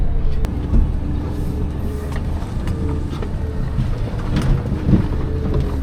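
A Suzuki Jimny JB23W thrashes through a pond in second gear low range, its engine roaring loud and close near the rev limiter with a steady, choppy drone and splashing water noise throughout.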